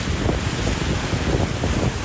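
Large storm waves crash along a flooded shoreline on the Wildwoods island, heard as a continuous loud roaring wash mixed with heavy wind buffeting the microphone.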